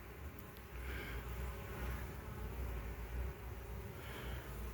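Honeybees crowd the hive entrance bringing in pollen, a steady close buzzing drone with no voices.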